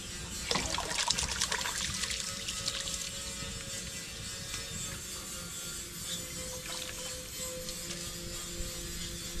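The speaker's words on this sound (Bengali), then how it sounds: "আমি এদিকে চালটা ভালো করে ধুয়ে নিই" Rice being washed by hand in water in a home kitchen, with a continuous close trickling and sloshing of water, brief splashy swirls near the start and a steady liquid hiss throughout.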